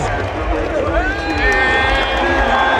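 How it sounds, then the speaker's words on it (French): A stadium crowd at an Algeria football match roars and applauds a player, a dense, loud, continuous wall of cheering and clapping with voices mixed through it, heard from within the stands. "il est applaudi par tout le monde"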